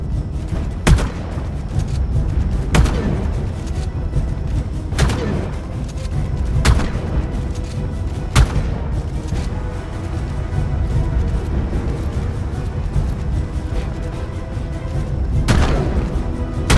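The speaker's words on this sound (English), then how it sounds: "Get the shotgun, man." A shotgun fires in Ark Ascended, sharp booming blasts spaced a second or two apart, about seven shots over a steady game background, loud and close.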